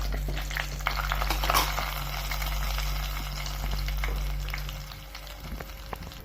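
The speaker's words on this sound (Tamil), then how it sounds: "எண்ணெய் காஞ்சிச்சு கடுகு போட்டுக்கலாங்க கடுகு பொறி கடலைப்பருப்பு போட்டுக்கலாங்க" Mustard seeds and chana dal fry in hot oil, making a steady close crackle and sizzle with a low hum underneath and occasional faint stirring.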